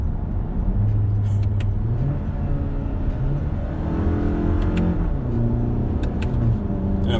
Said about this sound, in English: it's a 4-cylinder, so it's not gonna sound the best